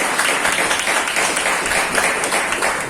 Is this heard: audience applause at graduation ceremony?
yes